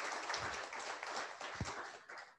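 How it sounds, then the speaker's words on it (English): Audience applause welcoming documentary director Rory Kennedy after a film screening in Newport, Rhode Island: a soft, fairly distant wash of many hands clapping, steady and faint throughout. "please give a warm round of applause for Rory Kennedy joining us here"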